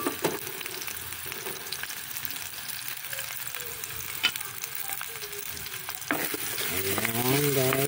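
Garlic and onion sizzling in a hot pan for ginisang labong, a steady close frying hiss with stirring, ending with a louder burst of sizzle as more goes in; no talking.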